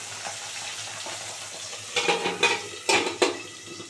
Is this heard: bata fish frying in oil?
yes